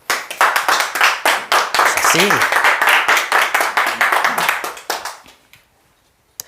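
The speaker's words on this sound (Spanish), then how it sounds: "Denle un aplauso a Dios." Church congregation applauding together, dense sustained clapping for about five seconds that fades out, with a brief spoken word over it.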